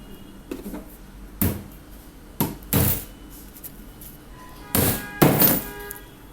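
A handful of sharp hammer strikes land on a nail in wood, irregularly spaced single and paired thuds, close and fairly loud.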